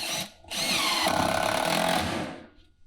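A power drill whines steadily for about two seconds, driving a screw into a wooden stage platform after a brief opening burst, close and loud, then winding down.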